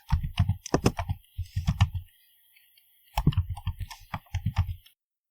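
Someone types a command on a computer keyboard in two quick bursts of close, crisp key clicks separated by a short pause, in an otherwise quiet room.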